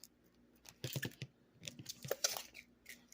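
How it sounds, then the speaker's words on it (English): A sticker is peeled off a makeup palette mirror close up, giving a few quiet, crackly tearing bursts separated by short pauses. The sound is faint and dry, with no talking. "As I peel the sticker off my mirror."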